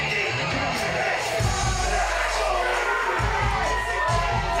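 A wrestling crowd in Darwen cheers, shouts and whoops loudly for Dabbin Dave Williams at an RWL show, a dense, steady roar with swelling bursts of excitement.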